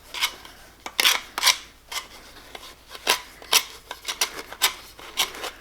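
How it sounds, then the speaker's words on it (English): A plastic pipe being cut off with a hand saw or cutter, heard as a run of short, bright rasping strokes in an irregular rhythm, close and moderately loud with no talking. "Now we'll cut this pipe off."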